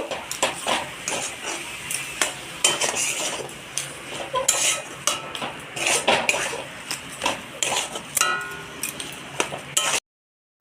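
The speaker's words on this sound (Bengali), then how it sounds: "মশলাটা কষিয়ে রেখেছি তো এর মধ্যে মাছগুলো দিয়ে দেব এটা দিয়ে ভালো করে কষিয়ে নেব" Rohu fish pieces are tossed in cooked-down spice masala, a metal spoon scraping and clinking rhythmically against the pan over a light sizzle, with the sound ending abruptly.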